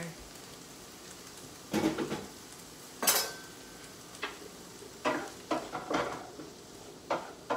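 A utensil stirs food in a frying pan with a soft sizzle underneath, producing several intermittent scraping and clinking knocks against the pan at close range.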